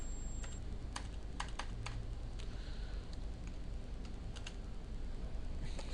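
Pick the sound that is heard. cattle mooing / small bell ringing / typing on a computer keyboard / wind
typing on a computer keyboard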